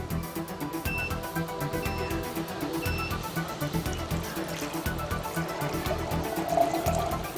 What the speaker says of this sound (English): I'm going to fill it up with 150 cc's of regular tap water.